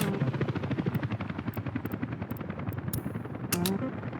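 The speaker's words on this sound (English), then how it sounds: "Get the helicopters here, do this immediately." Helicopters in the city-building game Workers & Resources give a steady, loud rotor chop with rapid thumping pulses throughout, plus a few sharp clicks, with no talking.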